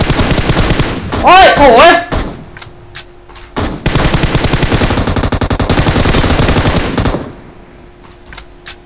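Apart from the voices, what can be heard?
gunfire from bots in PUBG Mobile video game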